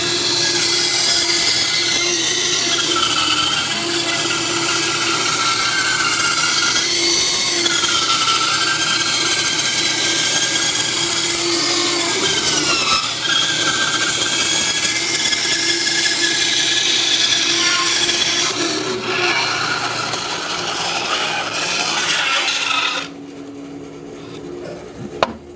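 A bandsaw cuts a wooden circle with an AccuRight Circle Jig in a woodshop, giving a loud, steady whine and hiss of blade on wood that runs almost unbroken before cutting off near the end.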